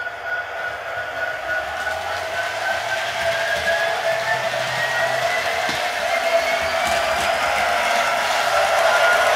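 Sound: Bachmann SD70ACe model locomotive running at full speed

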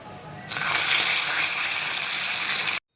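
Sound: water poured into melted caramelized sugar in frying pan

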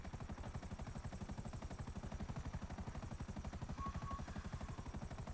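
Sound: helicopter flying in video game GTA 5 Online

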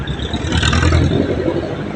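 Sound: road traffic, cars passing

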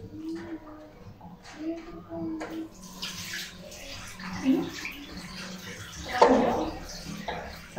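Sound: water running while washing face with coconut soap

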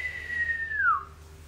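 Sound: whistle imitated by voice, flirtatious wolf whistle

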